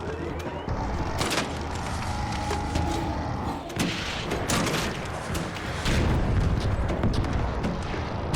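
Weapons fire in the video game Arc Raiders, sharp cracking shots going off at irregular intervals over a continuous rumbling bed of in-game noise, loud and close.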